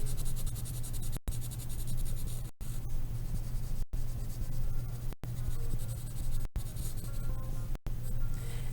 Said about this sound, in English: I am turning my pencil at an angle so I can use the full pencil instead of just going back and forth